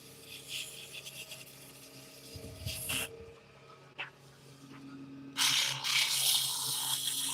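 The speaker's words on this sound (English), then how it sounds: "I want to put a bit of a chamfer on it." Wood being worked with a file to cut a small chamfer along an edge, giving soft rasping strokes in uneven bursts, with a louder, brighter stretch of filing near the end; no talk.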